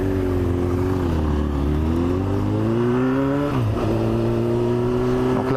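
A motorcycle on a licence-training course accelerates through first, second and third gear, its engine pitch climbing and dropping at each shift, loud and close.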